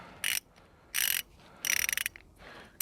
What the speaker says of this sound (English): let's get the ratchet out.